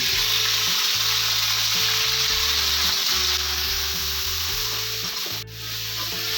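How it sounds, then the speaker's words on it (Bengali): Dried chillies fry in hot oil as ground spice paste goes in for a fish and pointed-gourd curry, giving a loud, continuous sizzle over a steady low hum, with no talking. "এগুলো ভাজি হচ্ছে এরপরে আমি যে বাটাটা বেটে নিয়েছি সেই বাটাটা আমি এখানে দিয়ে দিচ্ছি"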